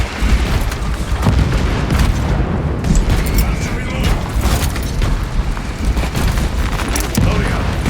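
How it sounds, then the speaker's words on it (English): A frag grenade goes off in Space Marine 2 amid dense, loud battle noise, with heavy booms and crackling blasts layered continuously over one another. "Deploy frag grenade."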